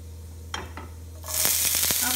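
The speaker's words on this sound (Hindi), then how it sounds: "ये हमारा जीरा भूनने लग गया है" Cumin seeds roasting in ghee in a pan make a faint early crackle, then a steady broadband sizzle takes over for the last second, with a few sharp pops and stirring scrapes.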